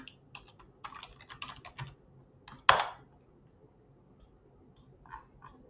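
Brief bursts of computer keyboard typing, a quick run of clicky keystrokes followed by one sharp louder tap, then a few faint scattered key presses in a quiet room.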